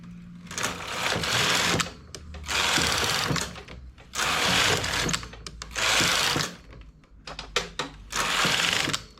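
A knitting machine carriage is pushed slowly across a row, left to right, five long rattling, whirring passes separated by short pauses and small clicks, close and loud with no talking.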